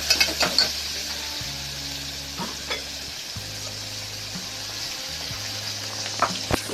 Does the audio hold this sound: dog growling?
no